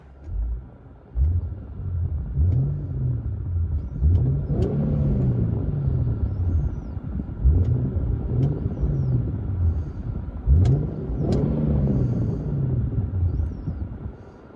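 Infiniti 3.7-liter V6 exhaust heard from inside a Q50 cabin: a deep, steady engine drone rising and falling through repeated revs and accelerations, with a few sharp clicks over the continuous rumble and no talking.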